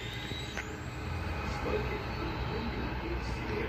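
Waterfall service train passing Heathcote station, a low rumbling roll of wheels on track with faint metallic squeal, steady and moderately distant throughout.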